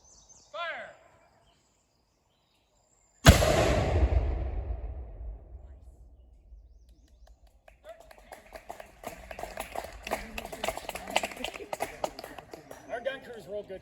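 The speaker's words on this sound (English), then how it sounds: "all of that process just to fire the cannon once" Historic cannon fired at a Minuteman National Park demonstration: one sharp, very loud blast whose boom rolls away over several seconds, followed by crowd applause and cheering.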